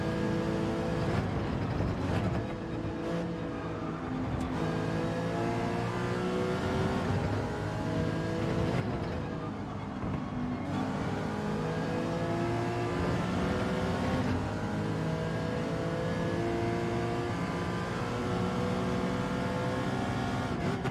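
A Ferrari in Gran Turismo 7 accelerating hard, its engine climbing steadily in pitch through repeated gear changes, loud and continuous with no talking over it.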